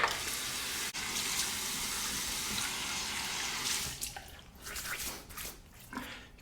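Water splashes at a running sink as a face is warmed before a shave. A steady hiss of flowing water gives way to broken splashing and dripping toward the end.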